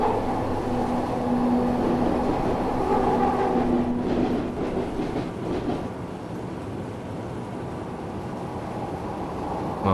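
Glasgow Subway train in Train Simulator Classic rolling over points, a continuous close rumble of wheels and motor with clattering rail noise that swells and thins midway, running steadily throughout.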